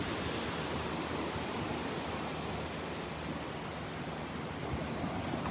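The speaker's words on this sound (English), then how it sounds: "Some little waves here breaking over the sandbar." Small ocean waves break over a sandbar on the beach at Delnor-Wiggins, heard as a continuous broad wash of surf mixed with light wind, steady and fairly distant, with no voices.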